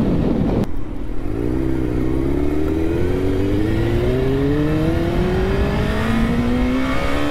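A motorcycle engine pulls hard while riding, its pitch climbing steadily through a long rising rev over loud wind rush, close and continuous with no voices.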